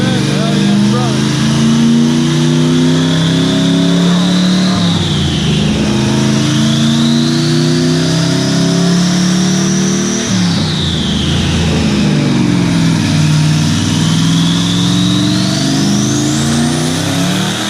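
An engine making over 1,000 horsepower revs on a dyno, with a loud sustained roar rising in pitch, briefly falling near 5 and 10 seconds, then climbing again to the end.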